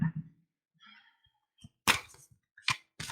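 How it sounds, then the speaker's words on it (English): A few short, crisp riffling bursts of cards being shuffled, fairly quiet, with a soft murmur before them. "Let me just do a little shuffling here."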